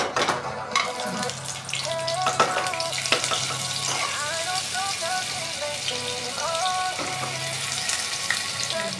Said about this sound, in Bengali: এখন তেলটা গরম হয়ে আসলে পরে আমরা এটার মধ্যে দিয়ে দিচ্ছি বাটার